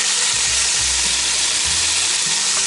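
Pork steaks sear at the bottom of a Dutch oven, giving a loud, close, unbroken hiss of sizzling fat over a low rumbling undertone.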